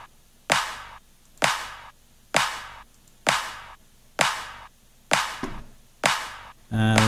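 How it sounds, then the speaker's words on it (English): Layered clap samples in a music production beat, seven crisp evenly spaced hits about one per second, bright and punchy with short decays, followed by a brief tonal sound at the end. "It's just some layered claps"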